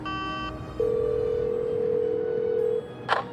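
A phone call is placed: a short burst of dial tones, then one long steady ringback tone lasting about two seconds, followed by a brief click.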